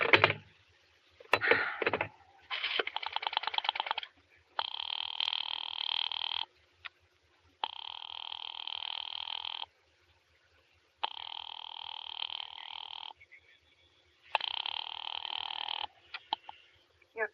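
An old-time radio drama telephone effect: a rotary dial clicking briefly, then a repeated pulsing busy signal in evenly spaced bursts with short gaps, clear and alone.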